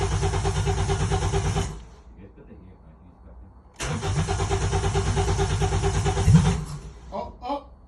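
Toyota Celica with open headers cranking in two loud, rhythmic bursts separated by a pause, the second burst longer; brief voices follow at the end.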